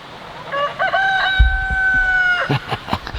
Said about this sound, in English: We get up with the rooster.